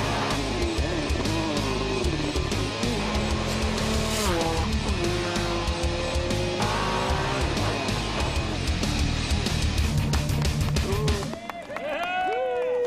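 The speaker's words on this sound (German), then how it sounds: "Sein Arbeitsgerät, ein Suzuki XL7 mit einem der stärksten Triebwerke der Rennsportgeschichte." Suzuki XL7 race car at the Pikes Peak hillclimb, its powerful engine revving and shifting loudly through gears with tire squeal, under narration and ending in a brief drop.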